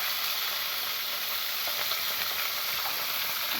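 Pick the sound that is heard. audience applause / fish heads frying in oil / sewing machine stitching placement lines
fish heads frying in oil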